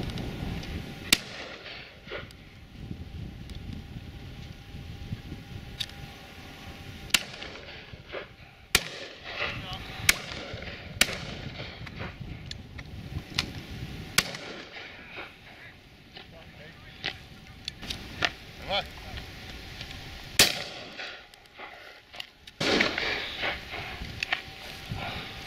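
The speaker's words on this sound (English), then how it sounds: "Shooting here. We haven't seen the pheasants yet." Shotgun shots at a pheasant and partridge shoot, sharp reports spaced irregularly across the scene, some close and some distant, over outdoor ambience with people talking at times.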